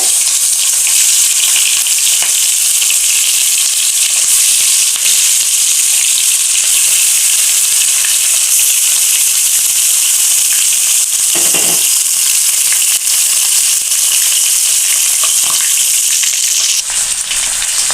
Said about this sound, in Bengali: আমার মাছের পিঠটা ভাজি হয়ে গিয়েছে